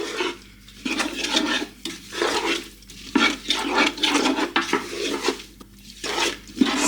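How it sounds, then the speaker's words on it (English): A spoon churns a tomato sauce base with oil for slow cooker marry me chicken, giving repeated scraping, sloshing strokes against the bowl in an uneven rhythm, close and fairly loud with no talking. "So some of this tomato isn't mixed very well, so I'm just giving it a really good mix."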